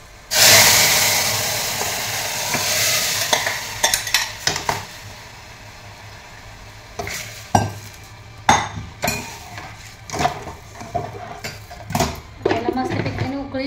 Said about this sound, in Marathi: आता फक्त मी तडका देणार. त्यामध्ये लाल तिखट, थोडंसं मीठ